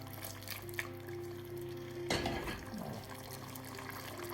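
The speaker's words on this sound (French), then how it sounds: "on remue absolument la marmite" A tagine pot with flour diluted in water being stirred, a soft liquid swishing and sloshing at low volume, with one brief scrape and splash partway through.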